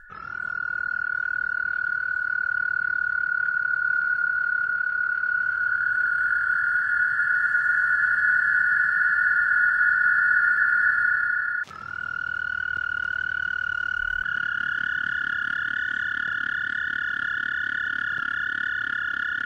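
A frog croak sample is played back through effects on a Roland SP-404MKII sampler. It becomes a loud, steady, droning processed tone that shifts abruptly partway through and then carries on with a deeper layer underneath.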